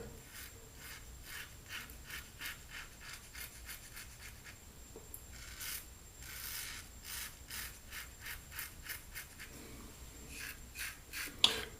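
A RazoRock Baby Smooth double-edge razor scrapes across the grain in short rasping strokes, close and quiet, repeating steadily without speech.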